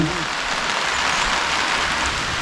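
A steady, dense hiss of fine water mist falling over garden plants, continuous and fairly loud, like light rain pattering on leaves; a machine-free water-only misting setup.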